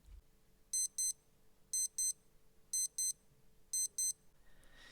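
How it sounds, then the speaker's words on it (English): Four pairs of high, thin electronic beeps from a Casio W-219H digital watch alarm at a steady one-second rhythm, close but fairly soft over quiet room hiss. "the alarm of this watch was incredibly powerful"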